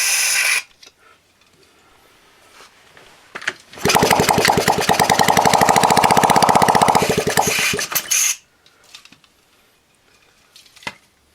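A 1970 Honda Z50 motorcycle's small single-cylinder engine fires up with the idle set high, buzzing loud and steady for a few seconds before cutting out, with quiet clicks and handling noises before and after.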